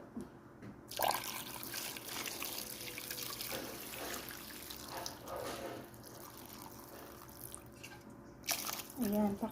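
Water poured into a cooking pot while making paksiw na pata runs as a steady close splash and trickle, with someone talking over it.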